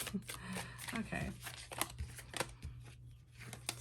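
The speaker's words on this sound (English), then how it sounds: "so let's get these cards shuffled" A deck of tarot cards being shuffled on a tabletop, giving a close run of papery riffles and slaps across the whole stretch, with no talking over it.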